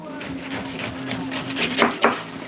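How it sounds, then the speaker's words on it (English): Knife cutting away pineapple skin, a series of close, rough scraping and slicing strokes, the last two sharper and louder. "If anybody has a better way to peel a pineapple, by the way, I'm all ears."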